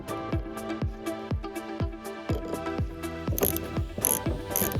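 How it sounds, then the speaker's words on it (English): Clicks from an 8mm spanner undoing a screw while replacing spray pipe bearings on a Granule Maxi, a close, regular series of sharp metallic ratcheting ticks with ringing tones, repeating steadily throughout. "Tool 8mm spanners. Undo the screw."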